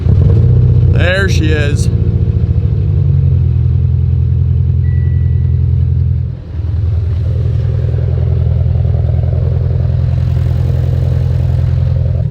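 A Mitsubishi Evo X engine cranks, catches and settles into a steady, loud idle with a deep rumble and a brief dip partway through. Someone speaks briefly near the start.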